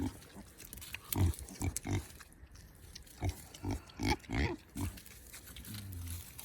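Five mini pigs grunt in short, close bursts of snorting oinks, with repeated grunts coming in irregular clusters over a quiet background.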